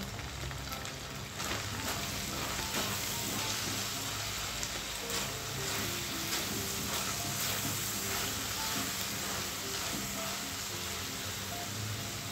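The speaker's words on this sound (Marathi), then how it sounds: "त्यामध्ये मी 1 चमचा काश्मीरी मिरची पावडर घालत आहे." Tomato sauce, Schezwan chutney, salt and Kashmiri chilli powder sizzle in a hot pan, a faint, steady hiss and crackle that holds throughout, close and low in level.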